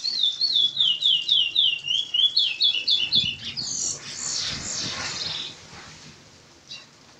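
A curió, the chestnut-bellied seed finch, sings a continuous song of rapid, clear whistled phrases repeated about a dozen times at close range, then fades into scratchy, noisy sounds.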